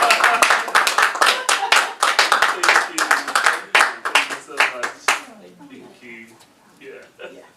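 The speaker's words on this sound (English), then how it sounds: "Please clap strongly." Audience at a Buddhist teaching event clapping for a woman, with a distinct, fairly close rhythm of individual claps for about five seconds before it tapers off, followed by faint talk.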